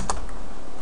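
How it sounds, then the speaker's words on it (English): Brief burst of computer keyboard typing while entering a web address during Apache2 virtual host setup on a LAMP server, a couple of close keystrokes followed by quiet room hiss. "Hit the tab key and just type in site1.com"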